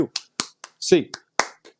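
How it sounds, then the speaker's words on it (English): A podcast host claps eight times in a quick, slightly uneven rhythm, sharp and close, while his voice counts along between the claps. "it's time to get those hands in the air. 8 clap time, baby"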